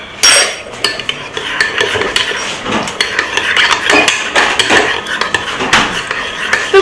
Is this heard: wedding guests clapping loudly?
no